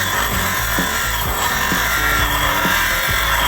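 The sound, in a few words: bench grinder grinding outside of steel handlebar pipe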